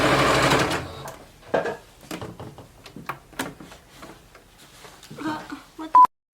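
A domestic sewing machine stitching feather detail onto thrifted pants: a short burst of rapid whirring, then scattered clicks and brief stitch runs, ending with a single beep.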